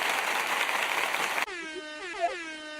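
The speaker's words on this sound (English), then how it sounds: "Give you the air horns out there." An air horn sound effect blares after a stretch of hiss: a loud, wavering horn blast with a bending pitch, standing alone without talk.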